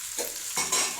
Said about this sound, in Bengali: আলুটা ভালো করে ভাজা হয়ে গেছে।